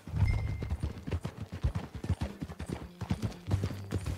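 Rhythmic clip-clop of horse hooves from riding in the video game Red Dead Redemption 2, steady and fairly close, with faint low rumbles and an occasional snort.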